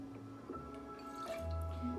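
Fig-infused vodka pours into a measure in a short, close liquid trickle with light drips and a rising gurgle.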